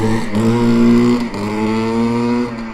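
A Yamaha YZ490 two-stroke dirt bike, a barn find running rich on extra two-stroke oil, idles loudly right after its first start, a steady raspy engine drone with brief dips in revs, close by.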